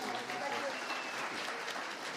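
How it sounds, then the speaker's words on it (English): An audience applauds at a Detroit startup funding award event, with dense, steady clapping from a crowd and voices speaking over it throughout. "A round of applause."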